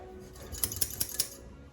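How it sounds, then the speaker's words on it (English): Scissors snip through wallpaper during hanging around pipes, four crisp, evenly spaced metallic cuts close by and fairly quiet, with no talking. "The Brits love to use scissors."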